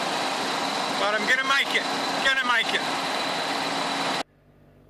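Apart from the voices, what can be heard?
car engine running while driving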